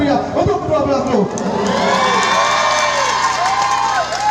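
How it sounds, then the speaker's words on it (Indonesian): Crowd at a volleyball tournament closing ceremony cheering, whooping and clapping loudly, with excited shouts and a rising whistle-like cry over a steady roar of the audience. "Sekali lagi kita berikan tepuk tangan yang meriah untuk kedua belah klub."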